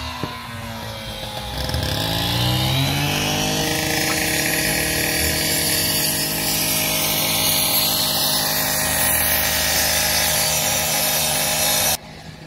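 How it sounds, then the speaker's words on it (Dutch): Continuous mechanical sawing through wood, steady and fairly loud, starting after a quieter opening and running until it cuts off near the end. "Timmerwerkzaamheden."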